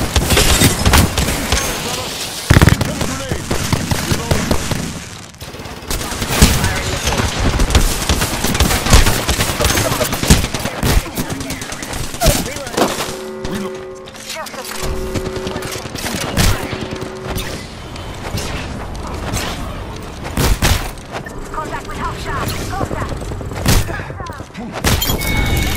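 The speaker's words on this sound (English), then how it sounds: "Heads up, grenade." Sustained gunfire and heavy thumping blasts, including a grenade explosion, in the battle royale game Apex Legends, loud and dense throughout with brief lulls, under in-game voice callouts.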